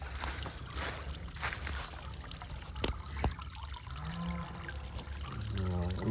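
Spring water overflows and trickles in a steady, close, soft gurgle, with a few louder splashes partway through and a bubbling burble toward the end.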